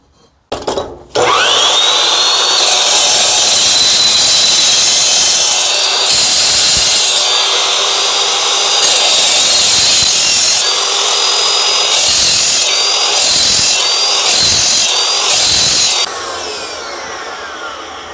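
A power saw cuts a relief cut into metal tube, starting with a sharp onset then a loud, sustained high whine lasting about fifteen seconds, broken by several brief dips in pitch before it winds down.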